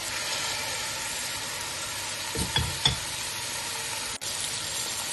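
Meat fries in a pan as the base of a gravy, a dense, even sizzle with a few brief stirring scrapes in the middle.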